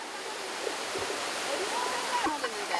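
A cool mountain valley stream flows steadily as a constant broadband rush of water, close and continuous, with faint splashing and possible voices in the background.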